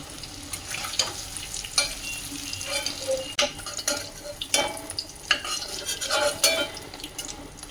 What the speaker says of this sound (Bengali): এই যে এরকম হালকা ভেজে নিয়েছি এখন পনিরগুলো তুলে নেবো